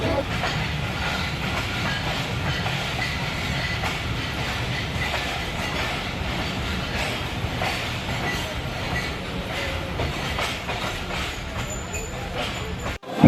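A passenger train pulls into Abdulpur railway station, its wheels clattering steadily over the rails with a loud rumbling roar, brief squeals and hiss, before a sudden jolt at the very end.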